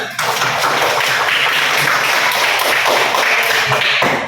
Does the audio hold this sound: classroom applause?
yes